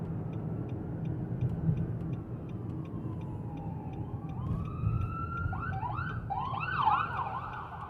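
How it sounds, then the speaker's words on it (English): A siren sweeps and wails over steady road noise, growing louder and shifting into rapid yelping tones as the emergency vehicle passes close by. "Ambulance is passed."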